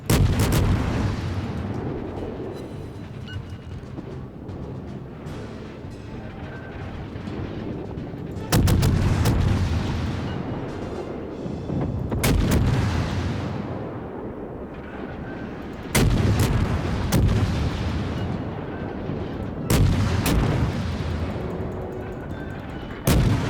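Heavy naval guns in a video game fire at ships in booming salvos, each blast followed by a long rumbling decay, recurring every few seconds with clustered rapid shots layered over constant low battle noise.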